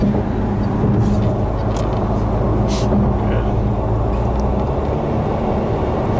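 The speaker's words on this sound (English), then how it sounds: "The engine does sound nice when it's on here." A Fisker Karma's engine hums steadily at speed on a highway, with broad rumbling road and wind noise and no break in the drone.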